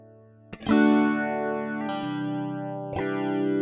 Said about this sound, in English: Good old pitch pedal.